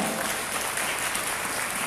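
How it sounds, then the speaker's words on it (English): Conference audience applauding an SME speaker, a dense, steady wash of many hands clapping at once, moderately loud and unbroken with no talk over it. "Give yourself a big round of applause for that."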